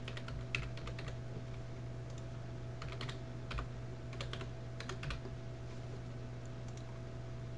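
Sporadic bursts of computer keyboard typing while logging in, quick clusters of light key clicks separated by pauses over a steady low electrical hum, close and moderately quiet.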